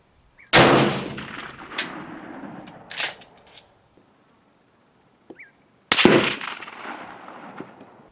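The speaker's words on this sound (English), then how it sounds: "pretty darn snappy shot right there too" Two sharp, loud rifle shots from a Steyr at an outdoor range, about five seconds apart, each a snappy crack with a ringing tail and some faint clinks between them.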